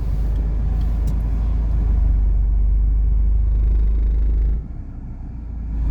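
A car reversing into a parking space during a driving test, its engine a loud, steady low rumble that drops abruptly near the end, with no voices.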